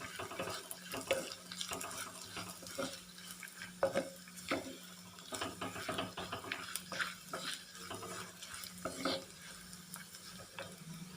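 A spoon scrapes and stirs shallots with turmeric powder in a pan, giving soft, repeated scraping strokes over a faint, low sizzle with no talking.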